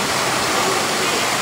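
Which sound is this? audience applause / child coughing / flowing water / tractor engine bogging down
flowing water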